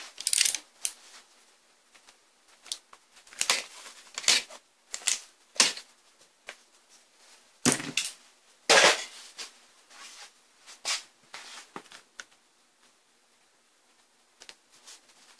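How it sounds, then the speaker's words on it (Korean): Packing tape is pulled and cut in short, sharp bursts with pauses between, close and fairly loud at an electronics repair bench. "테이프를 마저 자르죠"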